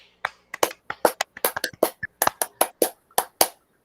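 Scattered claps from a small online conference audience applauding Group 1, about twenty distinct, crisp hand claps in an uneven rhythm, close and clear with no talking over them.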